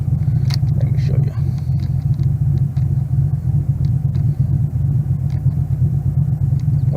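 A Chevrolet Camaro idles in a loud, steady low rumble, its engine note deep and continuous, with a few light clicks over the top.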